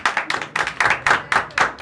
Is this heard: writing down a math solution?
no